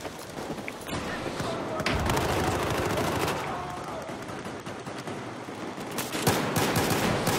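Battlefield 4 multiplayer gunfire on Xbox 360, a dense stretch of shots and impacts lasting several seconds, heavy and close, with a player's voice woven through the noise.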